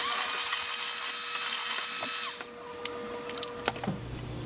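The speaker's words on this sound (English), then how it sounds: "Then I mix it together with my hand mixer, just to zap it together real good." An electric hand mixer whirs steadily at high speed while blending low-carb protein lasagna ingredients in a bowl, then switches off after about two seconds, followed by a few faint clinks and knocks nearby.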